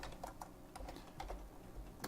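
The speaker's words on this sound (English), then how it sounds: "I'm just typing these in by hand." Fast hand typing on a computer keyboard, a dense run of light, close key clicks with a few sharper strikes, steady over a soft room hum.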